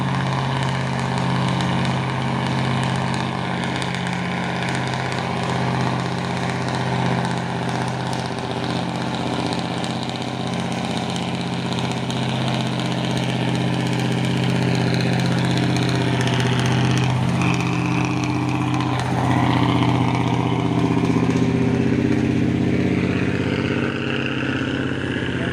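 A trailer truck carrying a container idles with a steady, continuous engine rumble, loud and close throughout with no speech.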